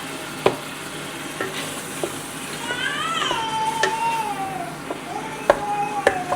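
Food browning in a home pan gives off a steady soft sizzle with scattered stirring clicks, as a voice speaks briefly over the cooking.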